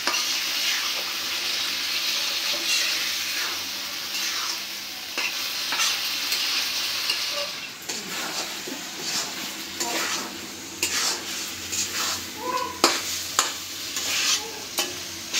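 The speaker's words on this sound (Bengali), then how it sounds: "ডাল আর মাংস আবার ভালো করে কষাই নিব" Washed, pre-fried lentils and meat stir-fried together in a pan, a continuous close sizzle with repeated scraping and stirring strokes of a spatula, a brief splash of water partway through.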